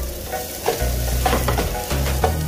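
Garlic frying in a pan with onions already browning: a loud, close, steady sizzle with intermittent scraping and stirring sounds.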